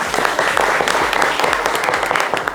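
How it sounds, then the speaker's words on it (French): A studio audience claps loudly and steadily for Jojo on a French-language midday show, a dense wash of hands with no break. "Applaudissements pour Jojo,"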